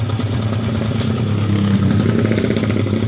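A warmed-up motorcycle engine runs at idle with a steady, loud mechanical clatter and uneven pulsing, the kind that sputters when hot, continuous and close with no talking.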